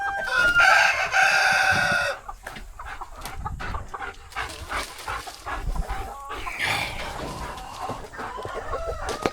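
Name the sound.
rooster and chickens crowing and clucking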